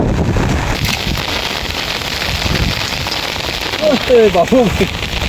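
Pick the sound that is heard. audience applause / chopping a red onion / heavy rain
heavy rain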